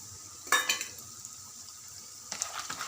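Peanuts and chana dal frying in a pan with oil and being stirred, a quiet, low hiss broken by two short bursts of spoon-scraping and clatter near the start and end.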